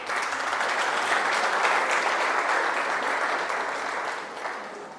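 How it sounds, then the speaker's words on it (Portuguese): Sustained applause from an audience at a family finance talk, a dense steady wash of many hands clapping together, loud and continuous throughout before easing slightly at the end. "Vamos dar uma salva de palmas para ela."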